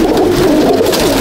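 Madrasi pigeons coo in a loft, a close, clear burst of soft throaty cooing with no voices.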